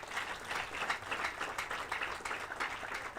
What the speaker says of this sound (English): Let's give our partners a round of applause.